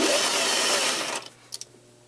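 A sewing machine runs a seam around a knit fabric sleeve in a steady whirring burst, then stops abruptly, followed by a few faint clicks and near quiet.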